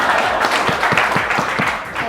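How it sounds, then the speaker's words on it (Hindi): A studio audience on a TV morning show gives a guest a burst of applause, with dense, close clapping that stays fairly steady across the short stretch. "बहुत सारी तालियां, बहुत सारी तालियां"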